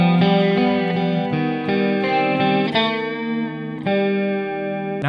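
Electric guitar playing a riff through effects, a bright chorused, slightly distorted tone with repeating phrases and a pitch bend, steady and loud with no talking.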